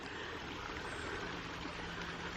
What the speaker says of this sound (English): So our property encompasses this stream. And it's beautiful. It's got a little bit of waterfall there.